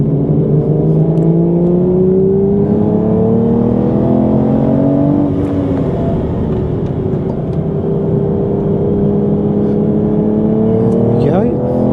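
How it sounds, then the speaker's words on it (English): Aston Martin Vantage V8 engine on the Brands Hatch circuit, heard from inside the car: a loud, continuous drone that rises and falls through the gears while the driver talks over it. "the engine does sound really good"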